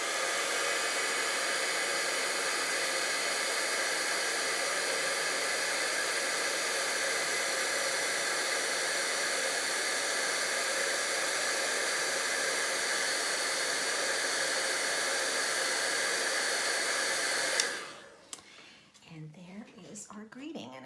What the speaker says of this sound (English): take our heat tool, and I'm just going to make some noise for a quick minute here